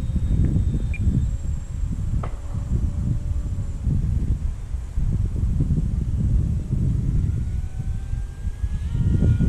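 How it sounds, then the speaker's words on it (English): Wind buffets a microphone outdoors in a steady roar of low rumbling gusts that continues throughout, with a faint high whine in the background and no one speaking. "It's kind of windy out here"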